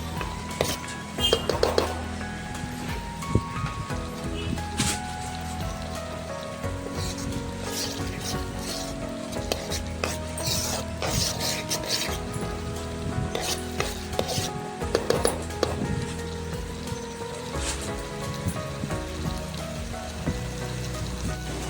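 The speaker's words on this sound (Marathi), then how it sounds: "सो मी ह्यामध्येच मीठ ॲड करून परतून घेणार आहे" Leftover marinade masala is sautéed with salt in a pan for chicken tikka masala, giving a soft continuous sizzle with scraping spatula strokes and occasional sharper knocks, fairly quiet throughout.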